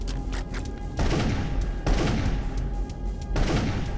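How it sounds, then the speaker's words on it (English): Gunshots fired at switches in the first-person shooter Darkenstein 3D ring out as three heavy booming blasts about a second apart, each decaying over low rumble, with quieter clicks between them and no talking. "Maybe you can shoot the switches."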